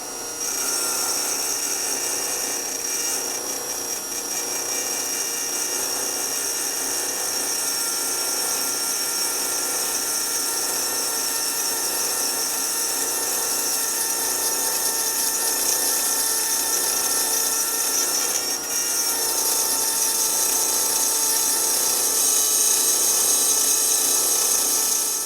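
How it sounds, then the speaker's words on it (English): Steady high-pitched whir of a power tool cutting threads into a bolt hole to take the next size up bolt, running continuously and loud with a brief dip near the end, no talk. "this is a bigger bolt, so I'm gonna have to thread it to the next size up"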